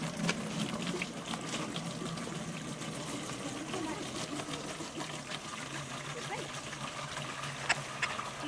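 Water is poured into a manual agricultural sprayer tank, giving a continuous low gushing and trickling fill under a voice talking nearby.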